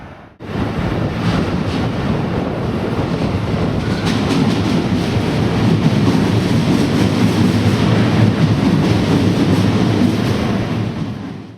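A train at Berlin Ostbahnhof station rumbles steadily and loudly throughout, a continuous roar of rolling wagons with faint rhythmic clatter and no voices.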